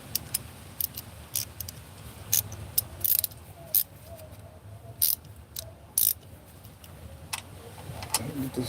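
A ratchet clicking while loosening an oil drain plug during an oil change, heard as repeated short sharp clicks in irregular bursts over a low steady background hum, close and fairly loud.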